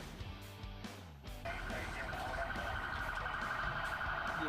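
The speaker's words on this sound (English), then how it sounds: "Apologize for the sirens racing by here." An emergency siren wails loud and steady at a youth baseball game, starting abruptly and holding a constant pitch through the rest, with a voice heard faintly at first.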